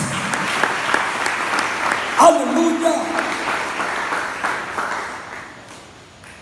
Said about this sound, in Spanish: Dele aplauso a la gloria de nuestro Dios